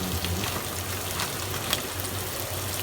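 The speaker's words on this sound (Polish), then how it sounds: "posmażymy rybkę i za chwilkę się spotkamy" Steady crackling sizzle of fish frying in a pan, continuous and fairly quiet, with no voices.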